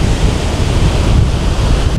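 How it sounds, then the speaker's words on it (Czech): Ocean waves wash steadily onto a New Zealand beach, a loud, continuous broadband roar of surf with wind buffeting the microphone throughout and no voices. "byli jsme tady v oceánu, voda je super a Verča ta si to užívá o něco víc jak já"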